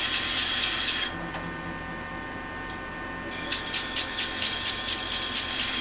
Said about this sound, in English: I ground this ricasso 36 grit, 60 grit, 120 grit, and this is 220